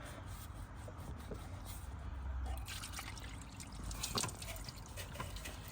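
Steady trickling and splashing water drains continuously at close range from a coolant hose of a 40-year-old BMW E30, plain water with no coolant, with faint clanks and movement in the background.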